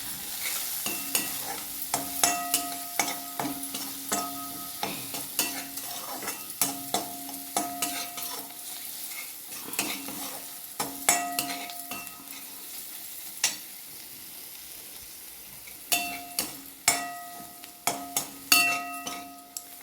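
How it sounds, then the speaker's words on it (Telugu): Chole masala and turmeric frying in hot oil while being stirred, a steady sizzle broken by regular scraping and clinking strokes of the spoon against the pan, close and continuous with no talking. "కొంచెం నూనె బయటకు వచ్చే వరకు వేగేటట్టు చూసుకోండి"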